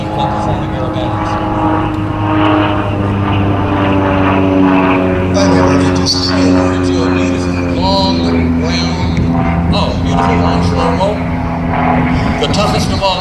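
A Decathlon aerobatic airplane performing a long slow roll at an airshow, its propeller engine droning steadily with a shifting pitch, distant but strong, beneath a public-address announcer speaking throughout.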